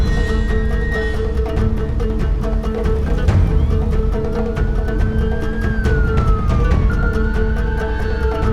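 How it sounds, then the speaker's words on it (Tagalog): A wailing ambulance siren rises and falls over a constant loud rumble of traffic or engine noise, continuing throughout without any talk. "Mabilis na dumating ang ambulansya sa pinangyarihan ng krimen."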